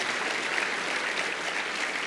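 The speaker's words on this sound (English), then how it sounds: "Will you join me in a round of applause for these two incredible men?" A steady round of applause from an audience at a conference session, dense and even throughout the short stretch with no talk over it.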